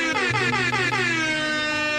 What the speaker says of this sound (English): turn up where my air horns at